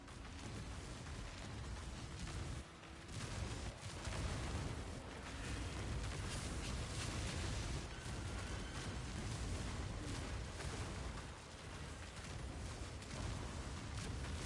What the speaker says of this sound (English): You saw those red circle explosions?